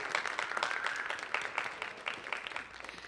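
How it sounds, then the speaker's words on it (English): Audience applause at a Del City Creative Arts Institute program event, a steady wash of many hands clapping at moderate distance with no talk over it. "Can we give a round of applause and appreciation for all that Adam has done to prepare for this"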